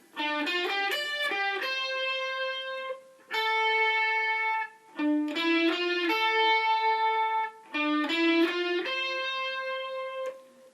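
Lead electric guitar plays the intro of a song, a repeating melodic phrase of quick notes ending on a held, singing note, heard three times with brief gaps between.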